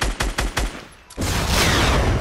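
Rapid gunfire in the video game Fortnite: a few sharp shots in quick succession, a short lull, then a loud, sustained burst of automatic fire up close.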